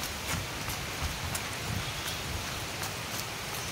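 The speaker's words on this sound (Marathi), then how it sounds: "आपलं घर जवळ आलंय आता आणि परत पाऊस चालू आलाय" Steady rain falls on a road near home, a continuous even hiss dotted with sharper drop ticks, with no one talking.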